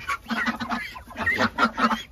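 Chickens cluck and squawk in a busy, overlapping chorus close by, short calls repeating in quick bursts, at a small home duck and poultry farm in Assam while being given water.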